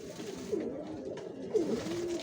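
Racing pigeons, young birds kept for sale, give soft, low cooing calls, two brief coos over a steady background hum.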